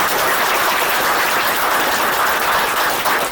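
An audience at a film first look launch press meet claps in steady, dense applause that fills the room, loud and continuous throughout with no speech.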